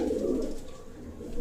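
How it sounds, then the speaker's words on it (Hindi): A blue pigeon kept for breeding in Punjab coos close by in a short, low, throaty burst that fades and swells again, heard alone without talk. "ये नीला कमगर कबूतर है"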